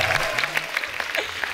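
Loud, dense studio audience applause on a Hindi TV comedy talk show, a steady wash of many hands clapping with a low voice briefly underneath.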